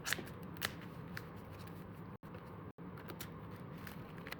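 A deck of cards for the Eagle Leader board game is shuffled by hand, a quiet, steady papery riffling that runs continuously with two very brief pauses, close to the microphone and with no talking.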